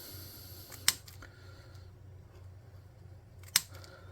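Scissors snipping pieces for a model tank's treads, two sharp isolated cuts a few seconds apart, close and crisp over a quiet room hum.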